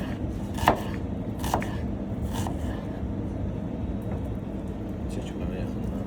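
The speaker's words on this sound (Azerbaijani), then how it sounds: "Bunları elə vururuq xırda-xırda, ləzzətli şəkildə." Red onion chopped finely with a knife on a board, a few sharp distinct strikes early on and lighter taps later, over a steady low background hum.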